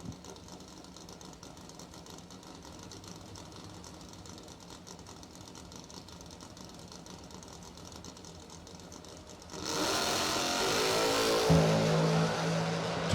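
A 1967 Pontiac Tempest four-door with a column shifter at a drag race: a steady engine drone under crowd noise, then a sudden louder roar as the cars launch.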